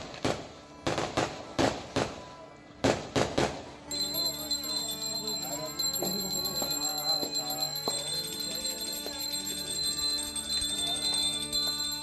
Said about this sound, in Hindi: चारों तरफ पटाखों की आतिशबाजियां अभी से ही शुरू हो चुकी है।